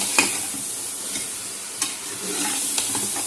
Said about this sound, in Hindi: चम्मच मार लेंगे।